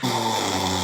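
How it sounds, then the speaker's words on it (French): A sleeping student snores in a classroom, a raspy, steady drone held close and fairly loud through the moment, with no talk over it. "Ouais, enfin là, on peut dire qu'il ronfle."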